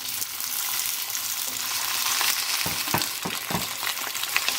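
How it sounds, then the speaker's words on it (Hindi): Okra frying in about half a cup of hot oil over high heat, producing a continuous, fairly loud crackling sizzle with a few low thumps of stirring toward the end. "अब ये भिंडियाँ हमने ऑयल में डाल के इनको फ्राई करना है"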